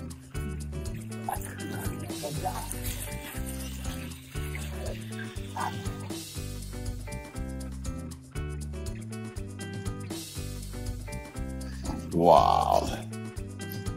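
Water splashes and drips over toy farm animals, including a white tiger, as they are washed; the liquid sounds sit under steady, loud background music.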